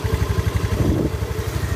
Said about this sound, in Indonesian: Perhatikan, ini motornya hidup ya.